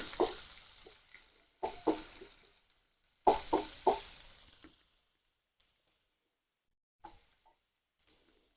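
Crushed garlic and ginger dropped into hot oil and stirred in a pan for Angamali-style pork, bursts of sizzling and scraping in short clusters that fade to quiet crackles between stirs, close and alone.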